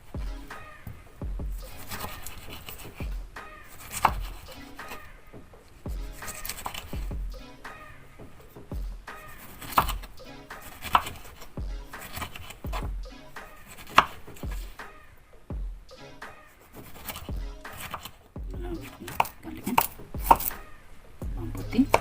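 Food being cut with a knife on a board while making an English breakfast, repeated close knocks in uneven bursts spread throughout, with music playing underneath.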